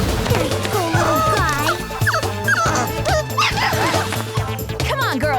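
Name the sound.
puppy whimpering and yipping in a cartoon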